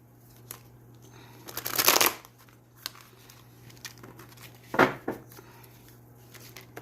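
Stiff new playing cards are shuffled up close in a few sharp riffling bursts, the loudest early on, then a shorter one later, with quiet handling between.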